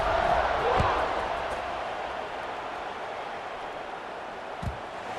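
Stadium crowd in a college football video game buzzes as a steady, broad roar after a score, with a couple of brief thumps and a commentator's voice over it.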